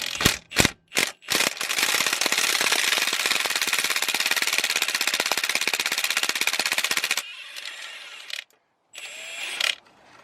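An impact wrench rattles off 13mm header bolts on a 2017 Chevy Silverado 5.3L. A few short opening bursts give way to a long, loud hammering run, followed by brief trailing bursts.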